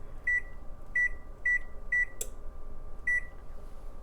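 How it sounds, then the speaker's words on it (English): An electric oven's timer beeps as it is set, five short high electronic beeps in an uneven sequence over a low background hum, with a soft click in between. "I have an electric oven, and I'm gonna put the timer on now for 10 minutes."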